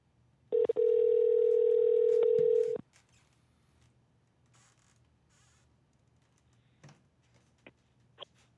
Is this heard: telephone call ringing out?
yes